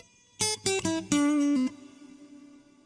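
A direct-input guitar through the plate reverb of a Boss GX-10 multi-effects unit plays a few plucked notes, then a held note that fades into a short, smooth reverb tail, with no talk.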